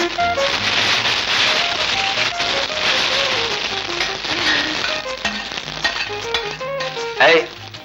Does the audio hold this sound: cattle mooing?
no